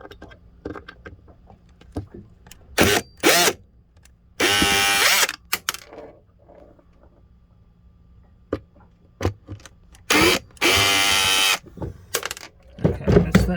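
Cordless power drill driving out screws from a metal bracket, several short whirring bursts separated by pauses, close and loud, with handling clatter between runs.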